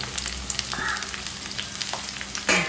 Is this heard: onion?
yes